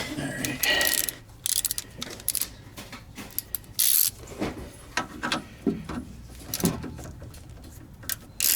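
A ratchet works on a rear shock bolt of a 2012 Honda Civic, giving irregular bursts of close clicking with clinks and pauses in between.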